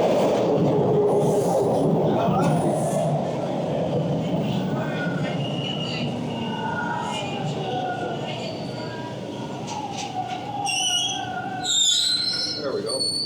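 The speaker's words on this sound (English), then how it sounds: "Oh, here comes the train." A Toronto subway train pulls into a station with a steady rumble, rising wheel squeals and screeching brakes near the end, loud and close, while people talk faintly underneath.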